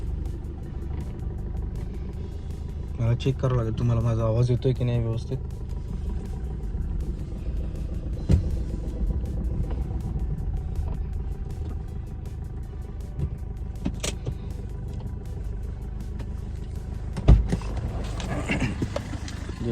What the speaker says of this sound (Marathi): घराच्या बाहेर गाडी काढतो मी